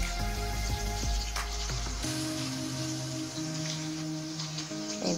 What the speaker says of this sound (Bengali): আর একটু নাড়িয়ে আর একটু ভেজে নিই, ঘ্রাণটা আর একটু বেশি হোক।